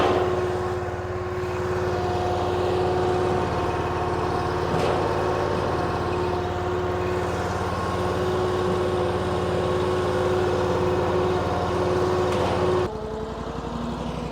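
The small engine of a Wolfe Ridge 28 SHO log splitter idles while warming up outdoors, a steady, fairly quiet mechanical drone with a constant hum, continuing unchanged until it dips slightly near the end, with no talking.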